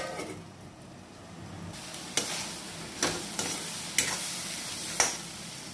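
Onions and tomatoes sauté in a pan for a drumstick curry, giving a soft continuous sizzle with several sharp stirring scrapes of a spoon at roughly one-second intervals, close by and with no talking.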